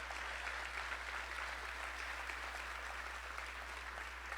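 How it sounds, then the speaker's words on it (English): Audience applause for Rotary at a state of the city address in Aurora, a faint, even wash of distant clapping with a steady low hum beneath it. "Let's give Rotary a huge round of applause for all they did to make that event successful."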